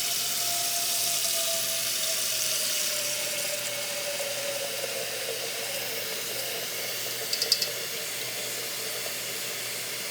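Tap water running steadily into a cooking pot for boiling corn, a continuous close hiss and rush of flowing water with a few faint clinks near the end.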